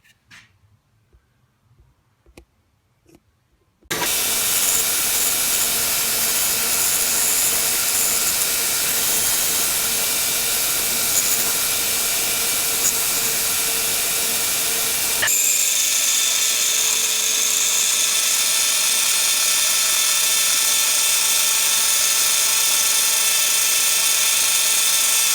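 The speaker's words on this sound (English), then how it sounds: "I'm going to break out the bench belt sander" A bench belt sander grinds steadily on a knife sheath for a Mora Companion Black Blade, starting abruptly after a few quiet seconds with a loud, continuous whining hiss that brightens partway through and runs unbroken to the end.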